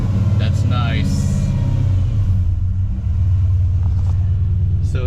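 A 1968 Dodge Charger engine firing up from cold, a loud close low rumble settling into a steady idle, with brief higher whirring and clatter early on.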